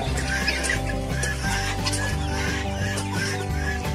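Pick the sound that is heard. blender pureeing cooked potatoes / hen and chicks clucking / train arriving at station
hen and chicks clucking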